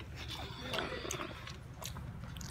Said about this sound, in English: I'm chewing a cough drop right now.